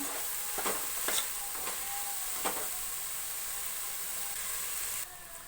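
Tomatoes and masala fry in hot oil for tomato bath, with a steady soft sizzle and a few scraping stirs of a spoon in the pan, close and quiet.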